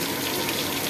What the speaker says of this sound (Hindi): मैं जो है इधर पानी लगाता जा रहा हूँ और अम्मी जो है सार्फ का झाड़ू लगाती जा रही है